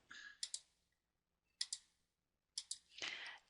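A computer keyboard is tapped in short bursts, a few crisp clicks separated by silent pauses, quiet and close, ending with a denser run of keystrokes.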